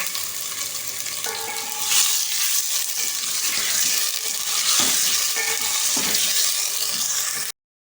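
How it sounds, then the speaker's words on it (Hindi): Sliced tomatoes and potatoes frying together for aloo gosht, a steady broadband sizzle with a few stirring scrapes and clinks across eight seconds, close and fairly loud, no voice. "ये ऐड कर देंगे और इन तमाम चीज़ों को अच्छी तरह से भून लेंगे"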